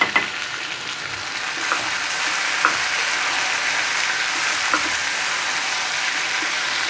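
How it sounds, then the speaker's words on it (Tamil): Mango pachadi being mixed in a pan gives a steady, close frying hiss, with a few soft spoon clicks against the pan scattered through it. "நல்லா கலந்து விட்டுடலாம்"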